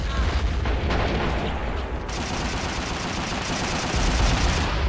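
Machine gun fire in the Men of War: Assault Squad 2 video game, dense rapid bursts with booming impacts in a loud, continuous battle soundscape with no pauses.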